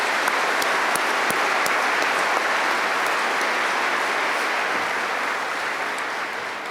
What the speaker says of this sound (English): Now join me in a round of applause recognizing these individuals.